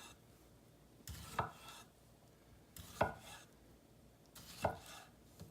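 A knife cuts through tomato on a cutting board in three distinct strokes about 1.6 seconds apart, each a crisp, close thud with a brief slicing rasp, alone in a quiet kitchen.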